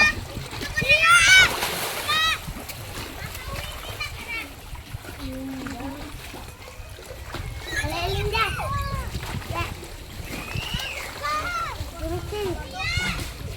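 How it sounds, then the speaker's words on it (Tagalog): Children bathe in water with repeated splashing, while kids' voices and excited chatter run throughout and a louder burst of splashing and shouting comes early. "Ingay ng mga batang naliligo."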